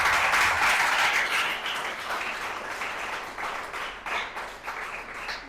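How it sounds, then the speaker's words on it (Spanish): A church congregation claps in praise of the Lord, a dense wash of many hands, loudest at first, then easing into ragged rhythmic clapping. "Un aplauso para el Señor."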